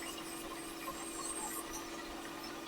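A pen is sanded by hand with a steady, even, low-level rasping hiss that continues without a break for several seconds.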